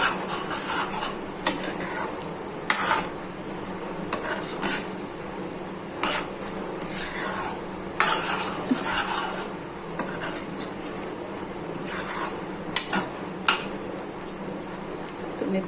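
Ground masala paste being stirred into cooked chicken in a pot, with repeated scraping and clinking strokes over a low simmering sizzle; someone talks intermittently over it.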